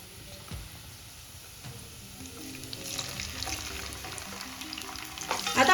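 Tomatoes sauté with golden fried onions in a pan, giving a soft, steady sizzle that swells louder toward the end, with a couple of light utensil knocks.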